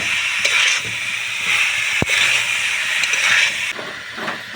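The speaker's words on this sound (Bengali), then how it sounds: "এখন আমি কপিগুলো দিয়ে দেবো, খুব ভালো করে কষিয়ে নেব মশলার সঙ্গে কপিটা।" Cauliflower florets frying with spices in a hot pan give a steady, loud hiss and sizzle that runs throughout, with one sharp click partway through.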